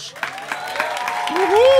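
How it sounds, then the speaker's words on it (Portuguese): Clapping builds from scattered claps into fuller applause at a stand-up comedy show, while a host's voice carries over it and rises near the end. "Recebam com muitos aplausos o próximo comediante desta noite."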